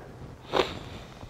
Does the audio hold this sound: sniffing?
yes